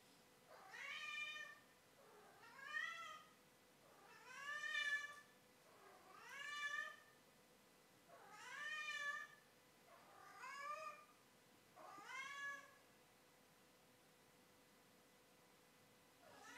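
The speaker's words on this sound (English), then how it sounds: "My cats are meowing." Domestic cats indoors meow repeatedly, seven drawn-out calls in a steady rhythm about every second and a half, fairly faint but clear over a quiet room.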